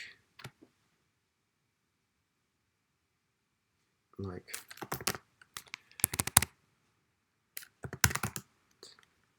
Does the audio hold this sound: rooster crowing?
no